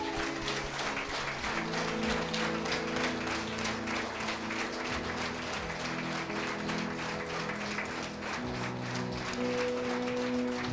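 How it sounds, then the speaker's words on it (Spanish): A church congregation applauds in a sustained, dense burst over steady music with sustained tones, the clapping even and loud throughout with no talking. "vamos a darle un aplauso al Señor."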